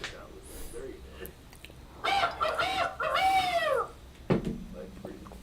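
A person imitates a rooster crowing, a drawn-out cock-a-doodle-doo imitation in the middle of the clip, fairly loud and close, with murmured talk and background noise before and after.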